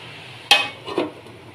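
A lid set over a pan of chopped red amaranth greens being fried, giving one sharp metallic clank followed by a softer knock a half second later, close by with no talking.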